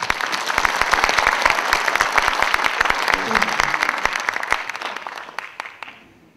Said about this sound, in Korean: 뜨거운 박수를 보내드립니다